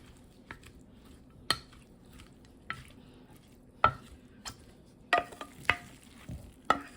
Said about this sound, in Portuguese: E quem não gosta de alho na manteiga